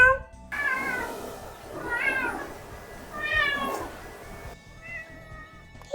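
A cat meows three times, drawn-out and plaintive, fairly close in a quiet room with soft background noise.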